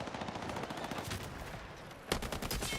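Rapid gunfire crackles in a Final Fantasy XIV battle, a dense burst of shots with a sharper, louder volley near the end, no talking.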